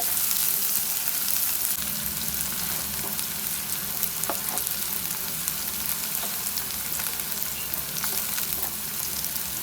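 Sliced onions frying gently over moderate heat in a pan for tomato chutney, a steady dense sizzle filling the whole stretch with faint occasional stirring ticks, close and even, no voices.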